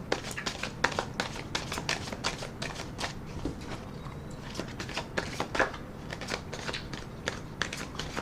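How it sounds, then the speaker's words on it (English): Tarot cards riffle and snap in quick bursts, a close, papery fluttering repeated several times with short pauses between. "I'm going to put another rifle and shuffle on the deck"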